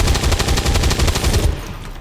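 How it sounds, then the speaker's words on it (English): Rapid cannon fire from the video game XCOM 2: War of the Chosen, a loud, fast rhythmic burst of about a dozen booming shots that stops abruptly, leaving a brief fading tail. "let's have Tyler lay into her with the cannon"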